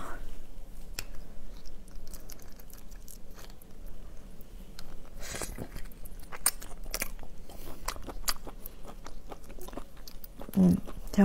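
Mukbang eating of pre-cut mantis shrimp, with close, irregular crunching and biting of shell under soft mouth noises, and a speaking voice partly audible.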